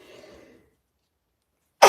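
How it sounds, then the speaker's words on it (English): A person sneezes once while making paper crafts. A faint murmur fades into near silence, then a single loud, abrupt sneeze bursts out close to the microphone at the very end. "I'm going to sneeze, excuse me"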